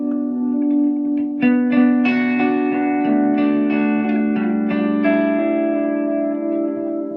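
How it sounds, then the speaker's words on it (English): An electric guitar runs through a delay pedal with the mix turned fully up, so clear picked notes and chords ring out with dense repeating echoes layered on top, sustained and full throughout. "That's the delay level all the way up."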